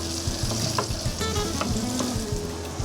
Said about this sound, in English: So in all these juices, I'm going to fry my vegetables.